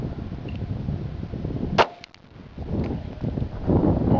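A single sharp crack from a Smith & Wesson Bodyguard 380 pistol at a shooting range, loud and close, followed by a brief lull and a couple of faint clicks amid outdoor background noise.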